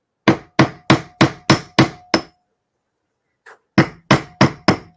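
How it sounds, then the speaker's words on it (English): Sharp metallic hammer blows flattening copper in a steady rhythm, seven quick strikes, a pause with a small knock, then four more, close and loud. "I'm going to be hammering this copper"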